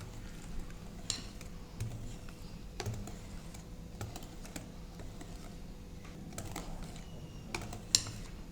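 Sugar, egg and butter being mixed in a bowl for a brownie cake, with soft scattered clicks and taps of a utensil against the bowl over a low steady background, fairly quiet throughout.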